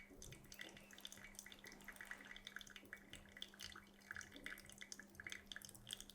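Water poured steadily onto coffee grounds in an Origami dripper, a soft continuous trickle and splash with a faint steady hum beneath, no voices.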